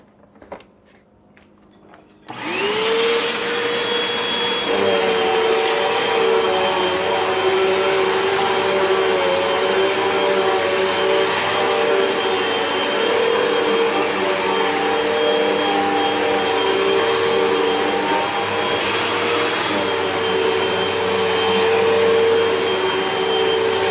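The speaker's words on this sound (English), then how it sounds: "I'm going to vacuum, and I will be using both of my Hoovers" A Hoover upright vacuum cleaner starts up and runs steadily over a carpet, a loud constant motor whine with a high-pitched tone that holds without a break after a short quiet start.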